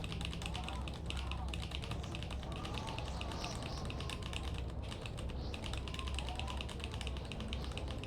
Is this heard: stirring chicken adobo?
no